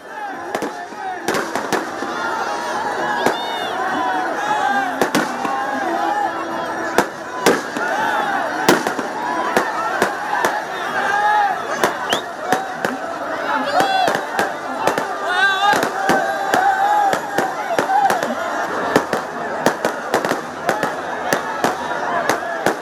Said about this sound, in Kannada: ಕೊನೆಯದಾಗಿ ನಡೆದಂಥ ಪಟಾಕಿಗಳ ಬಾಣ ಬಿರುಸುಗಳ ಪ್ರದರ್ಶನ 9 ದಿನಗಳ ಅದ್ದೂರಿ ನವರಾತ್ರಿ ಸಂಭ್ರಮಕ್ಕೆ ತೆರೆ ಎಳೆಯಿತು.